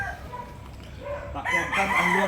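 Gamecock roosters crow in a backyard farm in Biñan, Laguna, a loud, drawn-out call rising in the second half over a low background hum.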